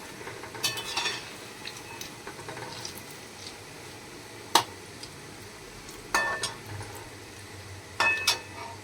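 Mathi fish fry in a pan with a soft sizzle, broken by several sharp clinks and scrapes of a utensil being turned against the pan.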